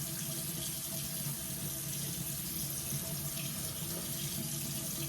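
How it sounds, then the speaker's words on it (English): Tap water runs steadily into a sink in a home bathroom, a continuous close hiss and splash with no talking. "I'm gonna go run my water."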